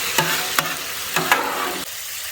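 Frozen stir-fry vegetables hiss and sizzle steadily on a hot Blackstone griddle, a constant broad crackle broken by a few sharp scraping clicks of a spatula, close and loud, ending as the sizzle drops away.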